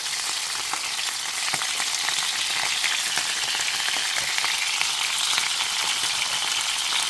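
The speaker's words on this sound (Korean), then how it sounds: "기름에 튀면 이렇게." Fish for a braised dried pollock dish frying in hot oil, a dense, steady crackling sizzle with fine popping throughout, close and even, with no talking.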